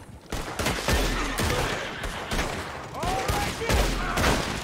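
Rapid gunfire from the Red Dead Online video game during a stranger mission, a dense fusillade of repeated shots running through the whole stretch with brief bursts of voice mixed in.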